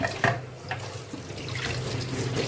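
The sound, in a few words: washing hands under running tap water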